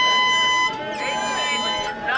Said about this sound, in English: Freedom of speech, it applies to air horns too.